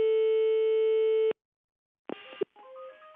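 A telephone line tone sounds on a call to a bakery: a steady electronic tone holds for over a second and cuts off, then after a short silence come brief clicks and a run of stepped tones.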